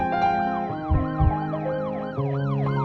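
An ambulance siren wails alone in a steady repeating up-and-down pattern, loud and close, with a couple of low thumps partway through.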